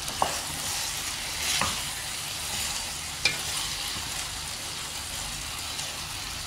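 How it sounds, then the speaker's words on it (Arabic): Okra fries with two big spoonfuls of tomato paste in a pan, a constant close sizzle with a few sharp scrapes of a spoon stirring it, and no talk. "وهنا بعد ما حمست عندي البامية ضفت خاشوقتين معجون كبار، نحمسهم سوا"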